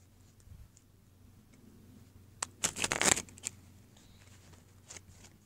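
A deck of playing cards gets a Russian-style shuffle, a quick flurry of crisp riffling flaps and clicks clustered in the middle, with a few lighter card taps before and after.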